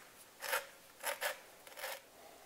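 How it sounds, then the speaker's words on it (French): An orange is zested by hand while making pastiera napoletana, giving three or four short raspy scraping strokes, close and quiet, with pauses between them and no talking. "On va prendre les zestes d'une orange, une partie, quelques zestes."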